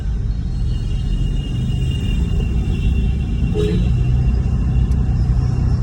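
Honda Civic FD with a newly replaced clutch driving along, giving a steady low engine and road rumble from inside the cabin, even and continuous with only faint changes.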